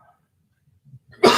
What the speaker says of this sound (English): I find myself fighting back a cough.